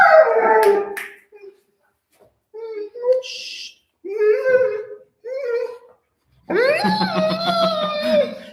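A pet dog howls and whimpers in a series of drawn-out, wavering cries, with short pauses between bursts and a louder, sustained howl at the end, close to the listener.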